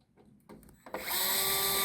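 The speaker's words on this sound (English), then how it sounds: "and we'll remove these two screws." A power driver removes the two screws holding a rotary range switch in place. After a few quiet clicks it spins up into a loud, steady, close whir, with no talking.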